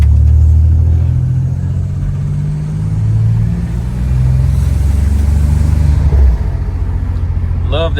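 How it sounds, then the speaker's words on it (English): A 1986 Oldsmobile Cutlass with a turbocharged engine pulls hard under acceleration, its deep engine rumble steady and loud for about six seconds before easing off near the end. "I know you guys can hear that turbo."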